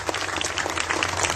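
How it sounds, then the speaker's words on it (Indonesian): A crowd at an audience gathering with arts practitioners applauds for Bang Agam, with dense, steady clapping from many hands throughout the brief moment. "tepuk tangan buat Bang Agam."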